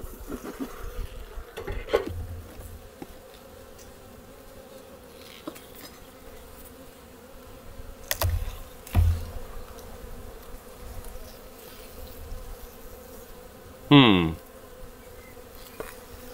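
Sparse honeybee buzzing inside a full-sized hive with few bees, low and quiet, with one louder, closer buzz passing near the end.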